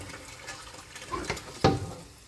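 Water trickles and splashes as it is poured into a cooking pot while preparing sinaing na pampano, a pompano fish dish, quiet and close with a brief louder splash near the end.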